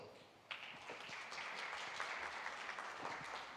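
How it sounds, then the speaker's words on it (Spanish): An audience at a medical conference applauds to welcome a doctor to the podium, a steady wash of many hands clapping at moderate distance, fairly faint and even throughout. "Bienvenida y un aplauso para la doctora"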